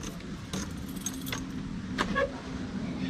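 Room keys jangle in short, bright bursts close by at a Tanay, Rizal campsite, over a steady background hum.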